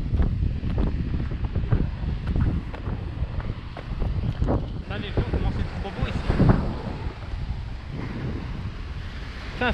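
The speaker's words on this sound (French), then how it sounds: "Ah, mais ça, il y a trop de vent." Strong wind buffets the microphone at a seaside point at Pointe des Châteaux in Guadeloupe, with waves and surf rumbling steadily underneath and a voice talking now and then.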